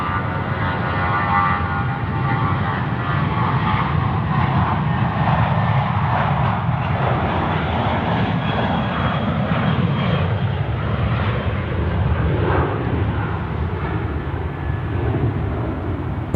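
A Jetstar jet airliner at Sydney Airport roars steadily with engine noise, a broad, loud rumble that holds for the whole stretch with no talking.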